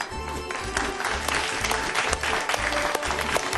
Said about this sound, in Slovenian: vaš prvi aplavz nocoj je namenjen Misicam in Damjanu